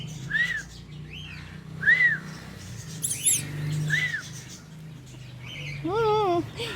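Pet birds calling indoors: repeated whistled chirps and rising-falling tweets, some near and loud, with a person's voice talking quietly underneath.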